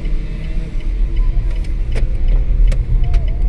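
Interior of a small electric hatchback, the best-selling EV in Indonesia, driving with a steady low road rumble and faint whine, punctuated by a few light clicks and knocks.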